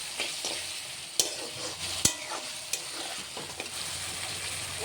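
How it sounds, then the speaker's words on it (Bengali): Turmeric fries in a pan with a soft continuous sizzle, broken by sharp clicks and scrapes of a spoon stirring against the metal, close and fairly quiet with no talking. "হলুদটা দিয়ে লাল করে একটু ভেজে নেব।"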